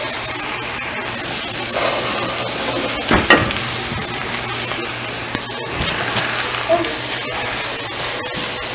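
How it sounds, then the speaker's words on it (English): Spinach wilts and cooks down in a hot pan, giving a continuous sizzle broken by a few clattering stirs and scrapes, heard up close. "We're going to start adding the spinach so we can get that to cook down"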